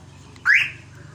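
A single short, bright rising chirp from a car alarm installed in a van sounds the lock signal, loud and close over a faint low engine hum.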